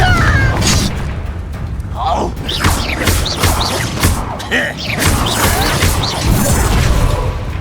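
Spell blasts fly in a Hogwarts Legacy duel: Confringo, Glacius and Repulsor are cast with rapid whooshes, booms and crashing impacts while a voice loudly calls out the spells over the game effects.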